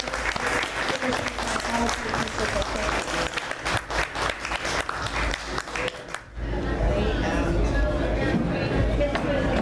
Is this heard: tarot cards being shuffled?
no